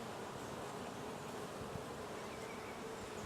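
Honey bees swarm over comb inside an opened spring hive, a dense, steady buzz that stays close and even throughout, with no voices.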